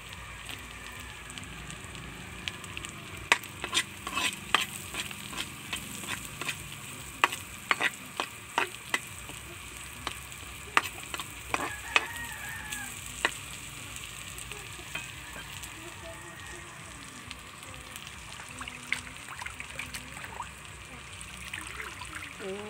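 Onions sauté in a pan over the flame, a low continuous sizzle dotted with sharp pops and crackles and the repeated scrape of a spatula stirring, close and moderately quiet.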